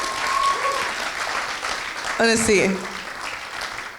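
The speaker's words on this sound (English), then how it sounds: "can we please have another big round of applause for all of our performers today?" An audience claps steadily throughout while a person speaks briefly over the applause.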